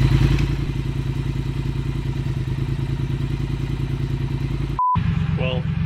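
A motorcycle engine idles steadily during a carburetor tune, a close, pulsing mechanical rumble that holds throughout, with a brief cut near the end before it carries on.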